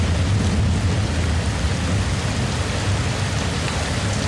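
Steady, dense rainfall at night in the Monteverde cloud forest of Costa Rica, heard from a treehouse, a continuous close hiss of drops on surfaces with a low rumbling undertone.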